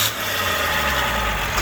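A freshly started car engine runs steadily at idle, a close, continuous hum with no talk over it.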